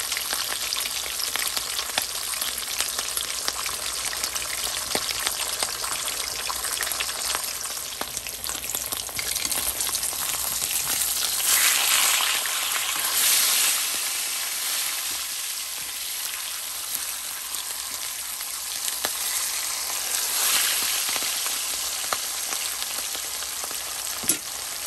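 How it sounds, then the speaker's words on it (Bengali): Pieces of mrigal fish fry in hot oil in a pan, giving a loud, continuous sizzle with crackling spatter throughout, heard alone without talk. "মাছ ভাজা চলছে, কিছুটা ভেজে নিয়েছি, কিছুটা চলছে"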